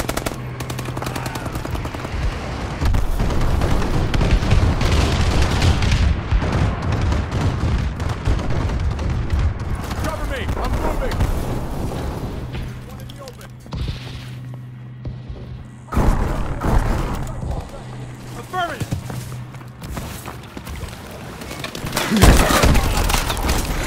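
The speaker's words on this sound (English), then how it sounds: "Friendly bombing run incoming." Friendly bombing run in the video game Call of Duty Advanced Warfare, heard as loud sustained machine-gun fire mixed with booming blasts and rumble that ease off midway before sharp bursts return near the end.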